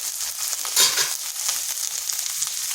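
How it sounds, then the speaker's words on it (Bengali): Chopped ginger and garlic fry in hot oil in a pan, giving a steady close hiss and crackle with a brief louder burst of sizzling, and no voices. "আদা রসুনটাকে একটু ভেজে নিলাম যাতে তার কাঁচা গন্ধটা চলে যায়"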